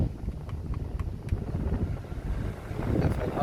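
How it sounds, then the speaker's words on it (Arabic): A GMC Suburban's HVAC blower motor fan pushes air through the cabin vents while the car runs with the A/C compressor engaged, a steady broad whoosh that swells slightly louder near the end. "دفع الهواء جدا ممتاز"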